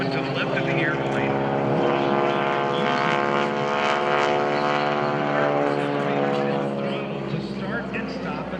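Blue Angels airshow airplane, steady loud engine drone overhead throughout with a slight fade near the end, layered with crowd and announcer-style background.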